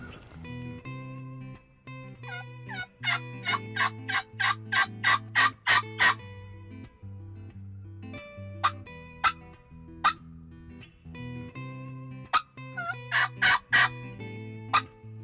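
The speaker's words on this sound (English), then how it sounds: "We got 3 or 4 different birds gobbling right up here in front of us" Several wild turkeys gobble in spring woods, with repeated loud rattling gobbles in bursts from different birds, some close and some farther off, with a few quieter calls between them.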